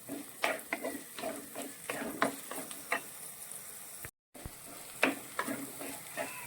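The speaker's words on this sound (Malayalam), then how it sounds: "നന്നായിട്ട് ഇങ്ങനെ വാട്ടിയെടുക്കുക." Chopped onion, ginger and garlic softening in coconut oil over a low flame, a quiet sizzle broken by irregular scraping stirs of a spoon against the pan, close and faint, with one brief gap of silence.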